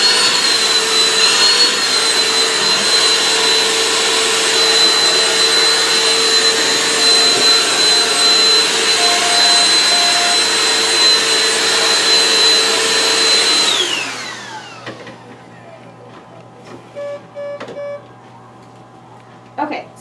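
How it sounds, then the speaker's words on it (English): Small vacuum cleaner suctioning shaved hair from a veterinary surgical patient's clipped abdomen, a steady loud whine that runs for about fourteen seconds, then winds down and cuts off, leaving faint clinic background with a few brief taps. "I'm just going to vacuum up all the little hairs."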